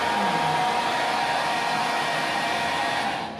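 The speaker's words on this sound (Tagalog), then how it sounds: "Sa libreng blower yan." A hair dryer runs in a Savoy hotel room, a loud steady whooshing roar that holds level, then begins to fade as it is switched off.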